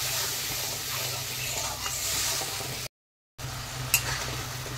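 Spice paste sizzling as it is sautéed in a pan, a loud continuous frying hiss with a stir or two, briefly cut off and then resuming.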